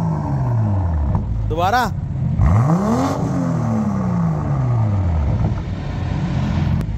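A Mercedes or BMW car exhaust revs during a night drive, with rising and falling engine sweeps and a sharp high whine near the middle, close and loud under steady background noise while people talk.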